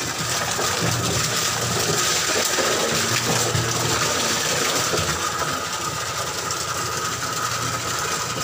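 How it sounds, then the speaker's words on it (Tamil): Water pouring down in a steady, loud rushing stream, a continuous broad noise with no pauses, close by and alone without talk. "இப்படி விழுது தண்ணி பார்த்தீங்களா இல்லையா?"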